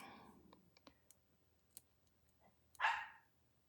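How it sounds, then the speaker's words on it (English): A single short dog bark bursts out near the end of a quiet indoor scene, preceded by scattered soft clicks and taps. "Oh my goodness, that dog."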